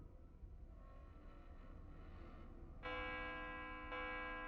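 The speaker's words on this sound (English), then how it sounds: "That sounds like an alarm bell." An alarm bell begins ringing partway through, a bright sustained metallic tone that restarts with a second strike a second later, fairly quiet over a low background hum.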